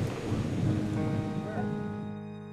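A mountain thunderstorm in Bolivia sends a deep rolling rumble of thunder over a steady wash of rain. The sound is loud at first and then slowly fades, with no voices.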